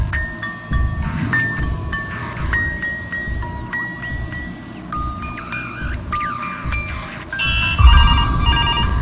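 A telephone rings in the Spoopy horror video game, its bright electronic trills repeating steadily over a low rumbling background before the ringing grows louder near the end.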